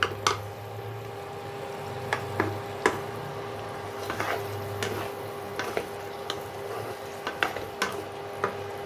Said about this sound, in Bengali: আমি ঢাকনাটা খুলে একটু মাংসটাকে নেড়ে দেব, নইলে ধরে ধরে যাবে